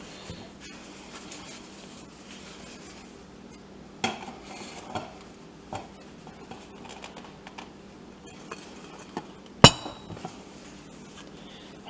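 A baked cake is turned out of its pan onto a cake plate in a home kitchen, heard as scattered light clinks and taps of pan and dishware, with one sharp clatter near the end, against quiet room tone.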